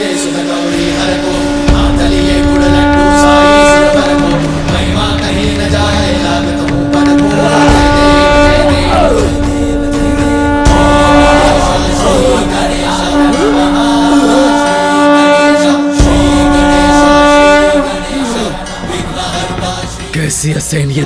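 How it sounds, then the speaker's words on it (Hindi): A conch shell (shankh) sounds a loud, sustained droning tone over dense dramatic background music and effects in a mythological setting, holding steady for about twenty seconds. "नारायण के शंख की ध्वनि है,"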